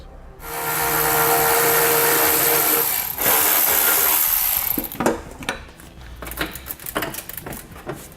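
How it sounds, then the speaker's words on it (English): A power tool whirs steadily for several seconds while removing heat shield nuts under a 2016 Jeep Patriot, followed by a spell of clattering, clicking metal handling and scattered knocks, all close. "we're going to temporarily remove by taking out the 4 nuts that hold it in place"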